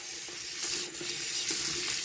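Water and shampoo splash and run as a vintage Toni doll is washed, a steady hiss of running water with soft sloshing pulses, close and quiet with no talking.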